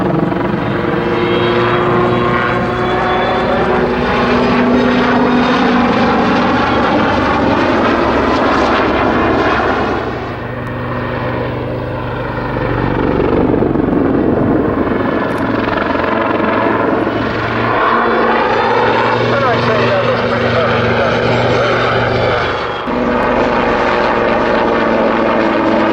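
A helicopter flying an aerobatic zoom climb, its rotor and engine roaring loud and close throughout with a pulsing throb and shifting pitch as it climbs and passes.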